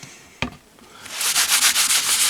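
Panel wipe is rubbed over a commemorative plaque in quick back-and-forth strokes, a soft scuffing wipe that starts after a sharp knock and repeats rhythmically, close and fairly loud.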